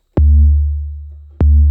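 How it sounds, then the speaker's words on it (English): Two deep, booming synthesized 808 kick hits with a click at the start, each followed by a long sustained low tail that slowly fades. "So then when we hit our kick, it's going to sound like this."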